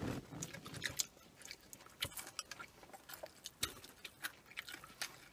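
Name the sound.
chewing deep-fried squid rings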